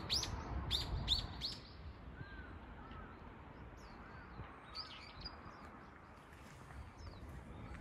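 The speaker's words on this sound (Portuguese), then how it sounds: "Tem um passarinho cantando aqui." Small birds call and tweet in a park in Tatebayashi during cherry blossom season, with clear repeated chirps at the start and scattered fainter calls after, distant over quiet outdoor ambience.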